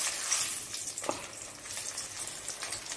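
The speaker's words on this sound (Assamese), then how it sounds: "এতিয়া কণী দুটা ভাজি আছোঁ" Two eggs fry in a pan with a soft, steady sizzle and crackle, fairly faint and close, with a brief clink partway through and no voices.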